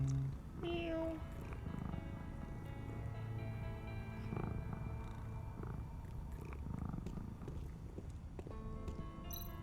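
A cat in the video game Tales of the Neon Sea gives a brief meow and then purrs softly and steadily over quiet background game music, with no talk.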